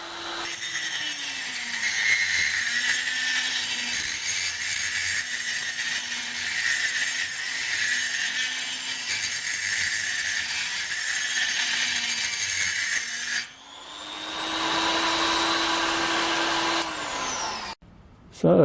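A HILDA 220-volt, 400-watt electric rotary grinder runs with a steady, loud high-pitched whine. Its drone dips and shifts as it works, then cuts off with a brief restart near the end.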